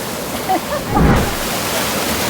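Water flows at a resort with a constant rushing hiss, close and fairly loud, and a brief voice murmurs early on.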